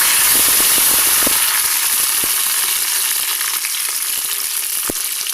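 Mustard seeds, curry leaves and ripe green chillies fry in hot oil, giving a loud, steady sizzle scattered with sharp pops and crackles.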